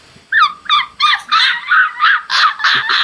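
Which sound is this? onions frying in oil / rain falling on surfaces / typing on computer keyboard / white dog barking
white dog barking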